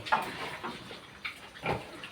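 Pigs grunt and squeal in a few short bursts, close and fairly quiet, with brief pauses between calls.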